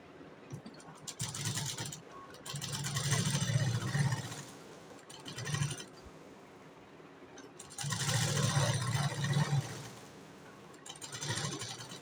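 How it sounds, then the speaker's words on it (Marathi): An electric sewing machine stitches a V-neck blouse of fabric, canvas and lining in several loud whirring bursts, each a second or two long, separated by quiet pauses with faint handling. "आता ह्याच्यावरतून आपण एक शिलाई मारून घ्यायची आहे."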